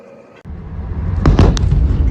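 Iranian missile strike explosions in Bahrain, with a deep rumbling blast that swells and keeps roaring, crackling bursts on top, after a brief quieter moment.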